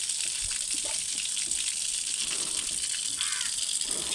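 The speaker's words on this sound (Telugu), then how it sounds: "మనం మొక్కలకు నీళ్లు పోసేటప్పుడు చుట్టూ కూడా మట్టి తడిచేటట్టుగా పోసుకుంటే బాగుంటుందండి" Water poured over garden plants, soaking the soil around them: a steady close gushing splash runs throughout, with crows cawing faintly in the background.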